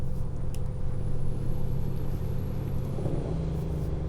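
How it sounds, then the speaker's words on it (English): A heavy truck in American Truck Simulator hauling a yacht on a trailer rumbles with a loud, steady low engine drone, a continuous engine-brake roar that holds throughout with a slight shift near the end. "I do like the engine brake now, or the jake brake. It sounds so awesome on this truck now."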